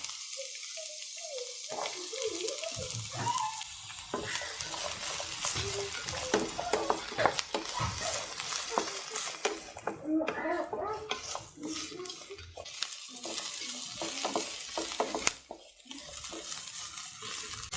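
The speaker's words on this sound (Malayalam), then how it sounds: "ഓയിൽ ചൂടായിട്ടുണ്ട്. അതിലേക്ക് ക്യൂബായിട്ട് അരിഞ്ഞു വെച്ചേക്കുന്ന സവാള നമുക്ക് ഇട്ട് കൊടുക്കാം." Cubed onion frying in hot sunflower oil, a continuous close sizzle broken up by scraping stirs and clinks of a spatula against the pan, with brief quieter gaps.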